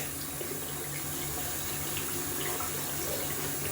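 Tap water runs steadily from a faucet as a dense-knot shaving brush is rinsed out at a sink, a continuous close splashing hiss with no talk.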